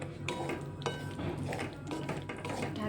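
A lid set over a pot of corn curry on a home stove, metal clinks and a scraping rattle repeating through the short stretch, close and moderately loud with no voices.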